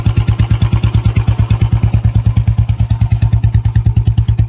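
A Royal Enfield Bullet motorcycle engine idles close by with a steady, rapid thumping putter and a faint mechanical clatter, running alone without any talk.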